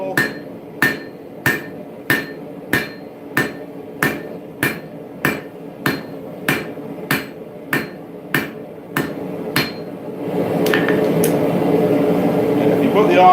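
Steady, evenly spaced hammer blows ring out on a railroad spike at the anvil while an axe is forged, about sixteen sharp metallic strikes close by, then a broad roaring hiss takes over near the end.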